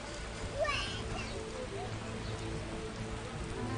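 Rain falls continuously over the Vizima Temple Quarter in The Witcher, an even, moderate hiss of drops on the ground, with a brief voice rising over it near the start.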